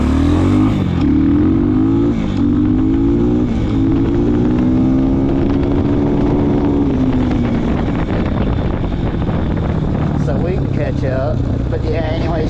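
A Trailmaster TM33 Xpro Chinese dirt bike engine runs and revs under riding, its buzzing tone rising and falling over several seconds while someone talks over it.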